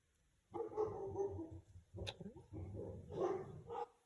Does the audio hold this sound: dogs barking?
yes